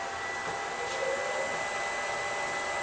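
A wood lathe spins at about 1000 RPM while a finish made with abrasive paste is burnished into the turning, giving a steady, even motor whir and hum that holds constant throughout, with no voices.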